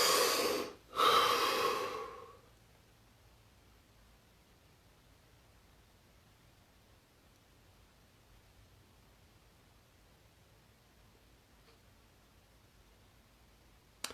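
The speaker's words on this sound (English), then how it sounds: "Deep breath." A single deep breath close to the microphone during a relaxation exercise, a loud inhale and exhale lasting about two seconds, then near silence.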